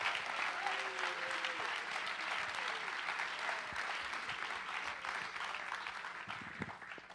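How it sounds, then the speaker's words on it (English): Audience applause for comedians at a Purdue University charity comedy show, a steady wash of clapping from a crowd that holds evenly for about seven seconds, with a few faint voices underneath. "let's give a round of applause for Jared"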